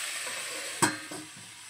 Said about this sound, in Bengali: এবারে একটু ঢাকা দিয়ে সবজিগুলো ভাজা হতে দেব।